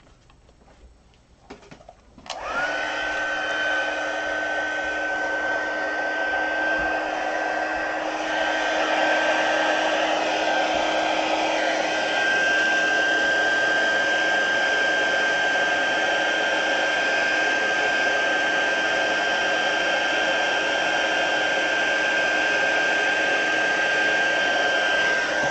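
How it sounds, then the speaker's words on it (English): A heat gun starts with a click and rises into a steady, loud whooshing blower roar with a faint whine as it warms embossing powder for gilding flakes, running on without a break. "Now we're going to heat it up. Remember to preheat your gun."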